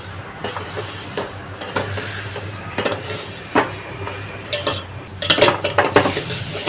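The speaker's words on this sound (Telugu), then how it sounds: "సో అదే నెయ్యిలో మనం కొంచెం సేమియాని ఇలా వేయించుకోవాలి బ్రౌన్ కలర్లోకి వచ్చే వరకు" Vermicelli stirring and roasting in ghee in a pan, with soft scraping strokes of a spoon against the pan, light sizzling and occasional clinks of metal, close and steady throughout.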